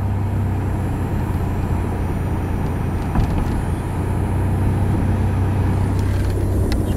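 A Camaro with a malfunctioning gas pedal accelerates on its own, giving a steady, loud engine and road drone from inside the car that holds without a break, with no talking.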